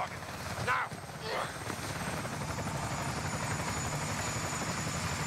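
A military helicopter in Modern Warfare 2 throbs steadily with a rapid rotor chop. It runs close and continuous the whole time, and brief voices break in near the start.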